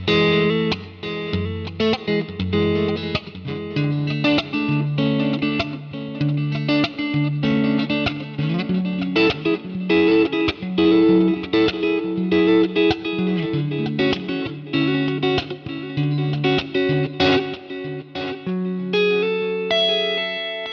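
Electric guitar with a mildly driven break-up tone played through an IK Multimedia Tonex One, chords and single notes ringing steadily with chorus-like shimmer and a touch of reverb, loud and close with no voices.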